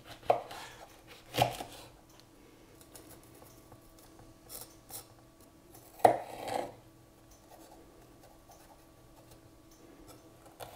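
Chili pepper finely chopped with a knife, a few sharp close taps spaced apart with faint scraping and rustling between them, quiet overall.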